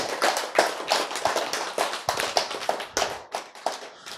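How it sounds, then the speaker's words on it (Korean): Rhythmic unison clapping from an audience at a lecture, sharp distinct claps in a steady beat, close and crisp with no talk. "박수"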